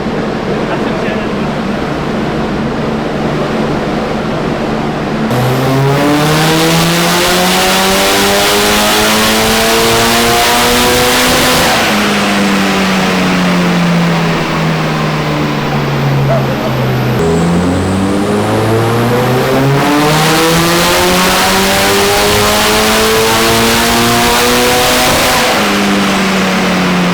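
Big-turbo Nissan S15 engine on a dyno, roaring loud and close as it sweeps up through the revs twice with a drop and rise between pulls, steady and dominant throughout.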